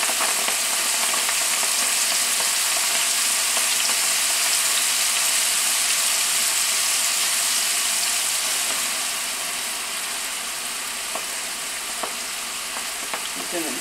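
Onion straws fry in hot oil with a loud, dense, continuous sizzle and crackle. The sizzling eases slightly toward the end, with occasional small pops.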